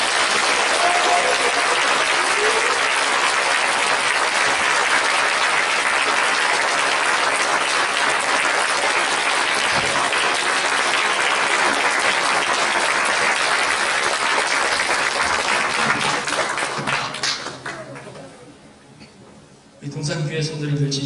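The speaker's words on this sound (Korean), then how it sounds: "뜨거운 마음을 담아서 박수로 환영하겠습니다." A church congregation at a Korean Methodist Sunday afternoon service claps in warm welcome for a visiting pastor, with loud, sustained applause filling the hall for about seventeen seconds before it fades out.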